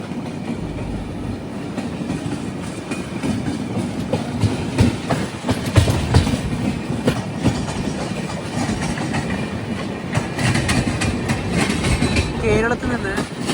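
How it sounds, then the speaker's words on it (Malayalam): The Kashi Tamil Sangamam Express runs on the tracks near Tenali Junction, heard from inside the train as a steady loud rumble with rhythmic clickety-clack of the wheels throughout. "7:10 ട്രെയിൻ ഇപ്പോൾ തെനാലി ജംഗ്ഷനിലെത്തിയേ."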